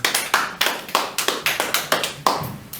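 A church congregation clapping in rhythm during a worship service, sharp, even hand claps roughly three per second, each with a short reverberant tail in a roomy hall, steady and fairly loud with no talking.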